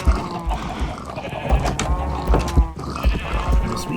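Sheep in the Minecraft video game bleat repeatedly in loud, close, wavering calls that overlap one another with brief gaps and no talk.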